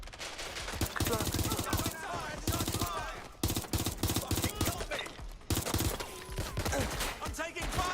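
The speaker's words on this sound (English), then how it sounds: "I'm taking fire." Rapid bursts of automatic gunfire and single shots crack repeatedly in the Watch Dogs: Legion video game, dense and loud with short pauses, mixed with game effects and faint voices.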